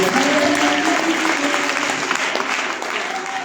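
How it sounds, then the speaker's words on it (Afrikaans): A congregation at a pastor's ordination service gives the youth a round of applause: dense, loud clapping from a crowd, with faint voices and a few tonal sounds mixed in early, fading a little near the end. "Kom ons gee die jeug nog 'n wonderlike hand"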